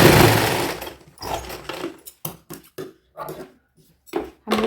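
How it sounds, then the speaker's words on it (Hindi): Sewing machine stitching around a purse lining, running in short stop-start bursts: a longer buzzing run at first, then a string of brief clattering spurts separated by pauses, close and alone. "हमने इस पे चारों तरफ से सिलाई लगा ली है"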